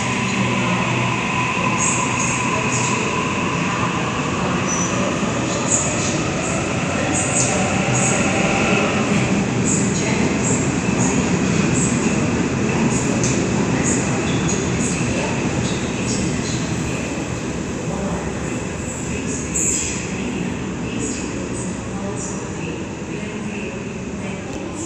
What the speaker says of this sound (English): MacArthur service now arriving into platform number 6.